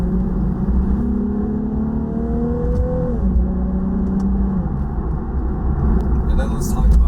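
A Nissan 370Z Nismo with a seven-speed automatic accelerates, its engine note climbing and then dropping at a gear change, a steady mid-volume drone with road rumble underneath.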